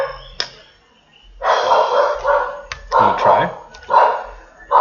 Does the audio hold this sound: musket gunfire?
no